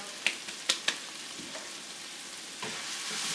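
A meat sauce being stirred in a pan after brown sugar is added: a quiet, steady frying hiss with three sharp spoon clinks and scrapes early on, then a softer stir near the end, close and alone.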